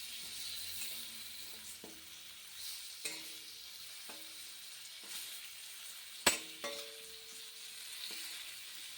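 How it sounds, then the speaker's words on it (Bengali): Two potatoes frying in a pan of oil in a home kitchen, a steady soft sizzle with occasional clinks and scrapes of a utensil, one sharper knock near the middle, no voices. "ডিম ভেজে আমি 2টা আলু লাল লাল করে ভাজবো।"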